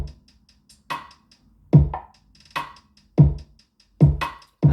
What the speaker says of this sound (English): this is what the kick and the snare and the hi-hat sound like.